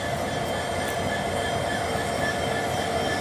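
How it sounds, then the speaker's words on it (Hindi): A special electrification inspection train standing at platform 1 of Naimisharanya station in India, giving a steady loud rumbling hum with faint metallic squeal, no talk. "आप देख सकते हैं विशेष ट्रेन नैमिषारण्य स्टेशन के प्लेटफॉर्म नंबर 1 पर"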